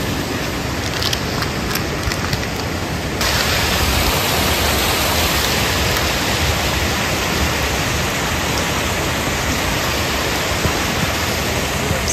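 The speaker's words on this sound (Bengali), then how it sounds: "नीचे दूधगंगा रिवर, ওই যে আওয়াজ পাচ্ছি" Doodhganga river rushing below a hiking trail in Yousmarg valley, Kashmir, after rain: a loud, continuous broadband roar of flowing water, briefly patchy at first and then steady and full.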